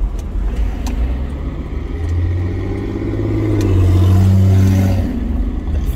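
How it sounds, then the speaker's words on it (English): Ford Taurus engine with a deep, truck-like rumble, running steadily and swelling louder midway through as it revs, heard from nearby with no talking. "Ford Taurus sounds like a fucking truck."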